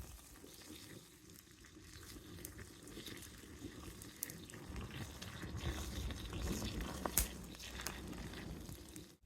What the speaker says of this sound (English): God, listen to that sizzle.